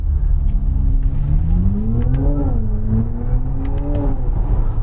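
Genesis GV70 EV piping a synthetic engine note through the cabin while accelerating in first gear, a steady rising whine with climbing harmonics, loud and close inside the car, no voices.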